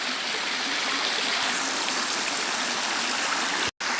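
Steady rushing of a flowing stream fills the whole stretch, broadband and continuous, with a brief dropout near the end.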